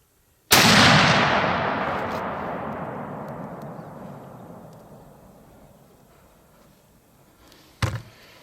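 A rifle shot fired at a coyote on a hunt in northern Arizona cracks once, loud and close, its echo rolling away slowly across open country, then a sharp knock sounds near the end.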